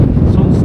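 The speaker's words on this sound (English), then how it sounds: "still very windy as you can probably hear" Strong wind buffets the microphone on a Lake District fell, a loud, low, continuous rumble that fills the whole short moment with no other sound.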